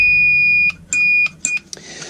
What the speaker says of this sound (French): C'est tout con, un petit buzzer avec des piles.